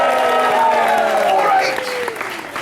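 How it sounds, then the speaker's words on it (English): A Renaissance festival crowd claps and cheers loudly, the sound tapering off toward the end, with a voice talking over it. "completely fake and totally unearned applause"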